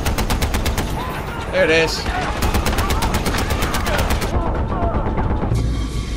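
Mounted turret machine gun in Far Cry 4 fires rapid, evenly spaced bursts for several seconds, loud and close, with a man's brief remark and other game noise mixed in.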